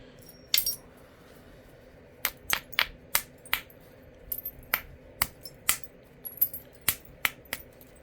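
Short, light knapping strikes of a hammerstone on a stone's edge, sharp clicking taps arriving irregularly, some in quick pairs, close and distinct against a quiet background.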